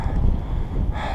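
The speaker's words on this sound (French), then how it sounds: "il y a des rafales de vent des fois qui me déséquilibrent" Wind gusts buffet the microphone on a mountain trail in the Alps near Briançon, a close, loud, rumbling roar that swells again at the end of a brief stretch.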